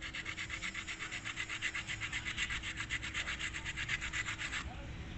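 A mango kernel rubbed diagonally against a rough surface to make a whistle, a close rhythmic rasping scrape repeating about five times per second for several seconds, then stopping; no speech.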